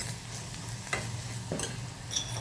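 Masala fries in a pan with a steady close sizzle, broken by a few scraping stirs of a spoon, and no one talking.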